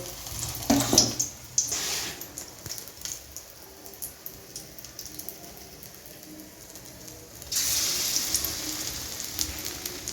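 Cauliflower fritters in batter fry in hot oil with a soft, continuous sizzle, swelling into louder crackling bursts near the start and again toward the end.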